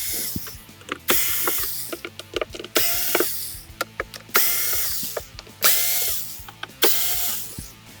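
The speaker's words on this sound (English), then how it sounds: "Now that we've loosened the ABS plate, removed the screws from it" Screws being backed out of the ABS cover plate on a Kraken 6.6 flood pumper, with repeated bursts of clicking ratchet driver turns separated by short pauses, close and clear with no talk.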